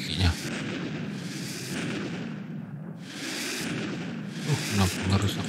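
Bazooka fire in a Roblox toy-shop obby game, dense rumbling blasts and booms that keep rolling almost continuously, with a few louder pops near the end.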